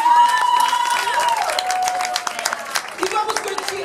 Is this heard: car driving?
no